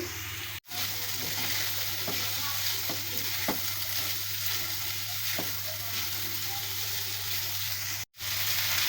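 Chopped ginger, garlic and green chilli sizzle in a hot pan, a continuous close frying hiss broken by occasional stirring clinks and scrapes, with two brief cuts to near silence.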